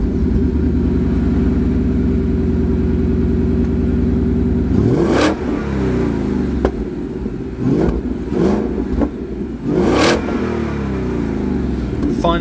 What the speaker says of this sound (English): it definitely improves the noise of the car. You get some nice burbles